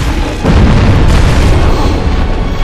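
A heavy, rumbling explosion in Dark Souls booms and roars, loud and close, with a sustained crackling rumble.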